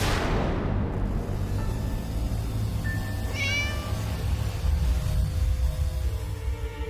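A cat gives a short, clear meow partway through, set against a steady low background rumble and hiss, with no one speaking.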